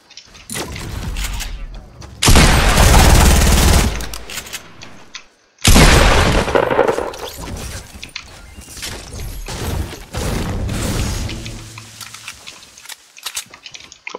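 Bursts of loud gunfire close by, two long heavy volleys separated by a brief silence, followed by scattered sharper shots trailing off.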